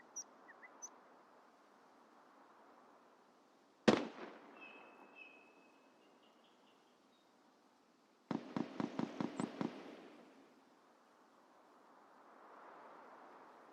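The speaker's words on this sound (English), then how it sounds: "There's so much loud shooting going on around me." Gunfire in a video game: a single sharp shot, then a rapid burst of about eight evenly spaced shots, with faint chirps and a low ambient hum around them.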